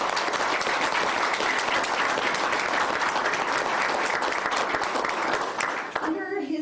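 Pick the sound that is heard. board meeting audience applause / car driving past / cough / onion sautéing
board meeting audience applause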